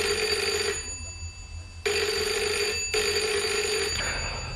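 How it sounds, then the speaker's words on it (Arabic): An old-style telephone bell rings loudly in repeated bursts with short pauses between rings, sounding alone in an Egyptian radio drama. "ردي على التليفون"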